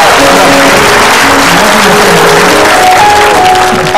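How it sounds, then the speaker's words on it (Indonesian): Indonesian TV studio audience applauding, a loud steady wash of many hands clapping that runs throughout, with faint tonal sounds beneath. "berikan tepuk tangan dulu buat alis"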